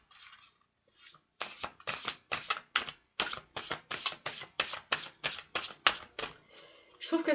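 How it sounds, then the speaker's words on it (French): Kabbalah angel oracle cards drawn one after another from a deck, a rapid series of crisp papery snaps and shuffles in a steady rhythm, close and fairly loud, with a faint voice at the start. "Je vais tirer juste 3 cartes que je vais vous lire tout de suite."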